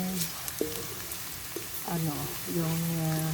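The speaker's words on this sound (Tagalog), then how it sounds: "bisa-bisa ng kaunti yung onion hanggang bumango ng bumango" Onions sauté in a pan with a steady crackling sizzle throughout, while a person speaks over the cooking.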